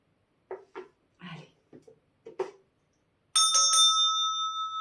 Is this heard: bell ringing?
yes